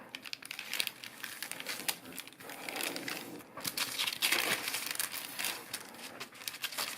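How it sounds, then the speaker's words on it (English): Sheet of paper being folded into an origami scorpion: close, quiet crinkling and soft rustling creases in irregular bursts, with occasional sharper crackles as the paper is pressed flat. "Find it easier to fold."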